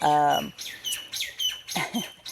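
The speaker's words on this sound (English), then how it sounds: "a bird just really chirped" A bird chirps loudly and close by in a short, bright call with a rising harmonic tone, followed by several quick, sharp tweets in an uneven rhythm.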